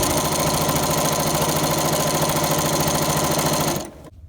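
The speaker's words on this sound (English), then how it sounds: "So now I'm just going to sew all the way around the top of the bag." A sewing machine stitches continuously around the top edge of a fabric boho beach bag, a steady loud mechanical whir that runs evenly for about four seconds before stopping abruptly.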